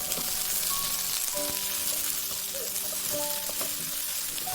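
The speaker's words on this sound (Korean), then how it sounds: "식용유를 넣고 감자를 넣고 볶고 양파를 넣고 살짝 볶아줍니다." Potatoes and onions stir-frying in cooking oil, a steady close sizzle and crackle with occasional faint clinks of a utensil against the pan, continuing evenly throughout.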